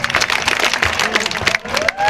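A crowd at a Karthika Vana Samaradhana community gathering claps for the organising committee members, short dense applause close by, mixed with a few voices.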